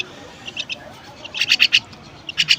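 A young myna gives shrill, rapid begging calls in short clustered bursts, close by, separated by brief quiet gaps.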